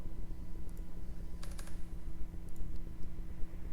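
Quick clicks of typing on a computer keyboard, a short burst of keystrokes near and clear over a low steady hum with no talk.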